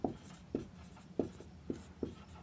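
Chalk strokes on a classroom board as a Hindi grammar definition is written: short scratchy taps and scrapes in an uneven rhythm of about five distinct strokes, close and clear with no talking.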